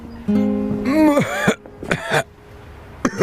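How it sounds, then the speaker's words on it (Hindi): A man coughs and clears his throat in several rough, voiced bursts, a longer strained one followed by two shorter ones, close and fairly loud. "जब भी मैं पूछती हूँ तुम खांसना शुरू कर देते हो।"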